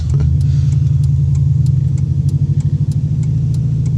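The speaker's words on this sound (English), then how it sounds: "So the muffler is only basically a cherry bomb. Flowmaster FX. Sounds pretty good." A car engine breathing through a Flowmaster FX muffler, a cherry-bomb style exhaust, idles with a loud, steady low rumble, then pulses in a quick run of throttle blips near the end.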